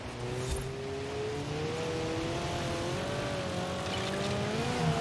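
Race car in Forza Horizon 4 braking and cornering through a Lego Valley sand dune course, with a steady engine note whose pitch rises and falls and a continuous loud drone that holds throughout.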